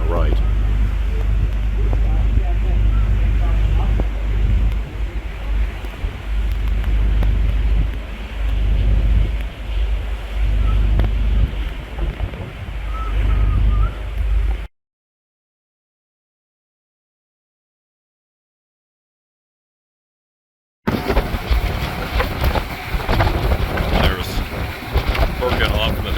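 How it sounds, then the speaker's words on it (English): Strong coastal wind near Bergen, Norway, roars and buffets the microphone with a heavy low rumble, cutting out completely for several seconds before returning just as loud. "As you can hear, it's really windy down here."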